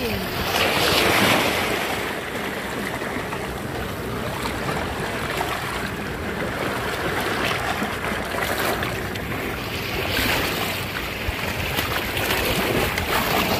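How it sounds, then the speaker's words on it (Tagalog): Strong wind and breaking waves at Lower Cheung Sha Beach, a steady loud rush of surf with gusty wind buffeting the microphone throughout, swelling slightly at the start and again near the ten-second mark. "Malakas pa kasi yung hangin, yung alon."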